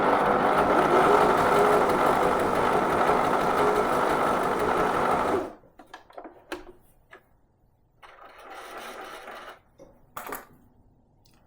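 A Janome 525 S sewing machine running a zigzag stitch, a fast steady mechanical whirr for about five seconds that then stops, followed by scattered soft clicks and handling noises.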